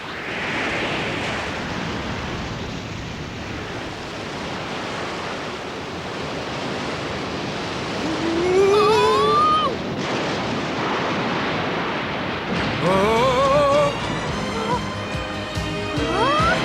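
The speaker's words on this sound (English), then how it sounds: "There's a storm coming! Looks like a pretty bad one, too!" Cartoon storm at sea: a steady roar of wind and crashing waves runs throughout, with whistling gusts and brief tonal sweeps rising over the surf in the second half.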